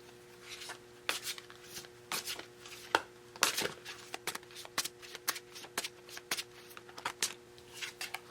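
Tarot cards being shuffled, a run of crisp riffling bursts and soft slaps in an uneven rhythm, close and fairly quiet with no talking.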